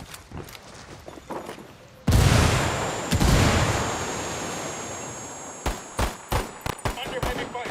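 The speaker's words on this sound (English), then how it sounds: "Under heavy fire" Heavy gunfire in the video game Ghost Recon Wildlands: a sudden loud burst of sustained fire that slowly fades, followed by a run of sharp repeated shots near the end.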